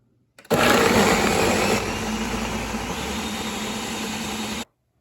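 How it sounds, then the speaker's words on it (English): Almonds blended with vanilla for almond milk in a blender: a loud, steady motor whir with grinding texture that starts abruptly, eases slightly after about a second, then cuts off sharply. "Now we're going to blend these up."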